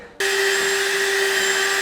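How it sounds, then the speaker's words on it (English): A power drill bores into a box while mounting a relay for a lighting upgrade on a Segway Villain UTV, starting abruptly and holding a loud, steady, high-pitched whine up close. "So I'm gonna go ahead and drill it."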